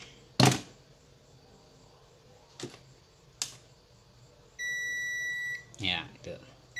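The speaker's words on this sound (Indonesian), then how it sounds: "Saya pilih mode buzzer, bunyi bip." A few clicks and taps, then a multimeter in buzzer mode gives a steady electronic beep for about a second before a voice speaks.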